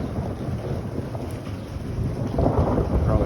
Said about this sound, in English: By the thunder crackling, and possibly some lightning.